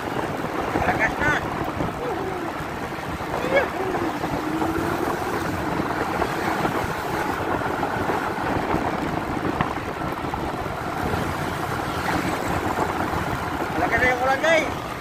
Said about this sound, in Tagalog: Yan, malakas na yung ulan.